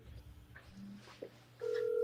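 Phone dialing heard as a few faint keypad tones, then a steady tone that grows louder near the end over a quiet room.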